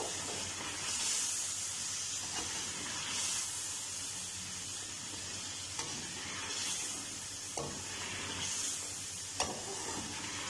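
Fried chicken pieces tipped into a Kashmiri-style masala gravy sizzle and hiss steadily while being stirred, with scraping strokes of the spoon recurring every couple of seconds against a constant frying crackle.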